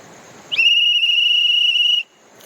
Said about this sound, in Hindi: अभी मैं उनको सीटी बजा करके बुला रहा हूँ